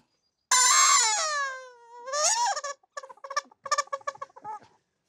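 A stretched bicycle inner tube is squeezed to imitate a seagull, giving one long, loud, wavering squeal followed by a shorter cry and a run of choppy squeaks, close and alone.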